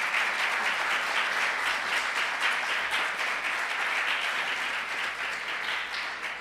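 An audience applauds at a closing speech by Rui Tavares, with a steady, dense wash of clapping that holds strong throughout and eases slightly at the very end.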